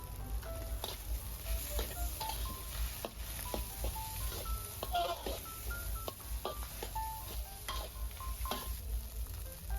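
Steady sizzling of fried rice with Chinese sausage in a wok, with repeated scraping and clanking of a spatula stirring throughout.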